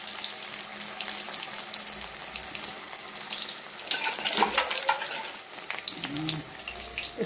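Banana flower pakoras frying in hot oil on a medium flame, a steady crackling sizzle that grows busier and louder partway through, with some clattering and watery hissing close by.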